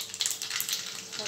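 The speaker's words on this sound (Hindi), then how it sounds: "तेल गरम हो चुका है, थोड़ी सी राई" Mustard seeds crackle and sizzle in hot oil for Gujarati home cooking: a short, steady hiss with light popping at moderate volume.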